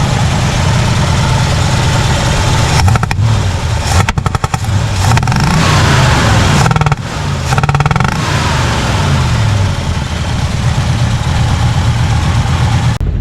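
A 1967 Chevy engine idles steadily and loudly up close, a continuous low rumble running rich after being revived, with brief changes in tone partway through and no talking.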